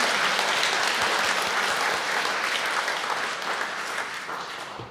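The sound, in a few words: congregation applauding to welcome the speaker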